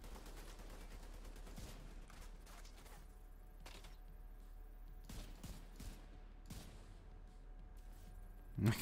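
Video game turret fire comes in faint, scattered bursts of sharp shots with short gaps between them, and nothing else is heard.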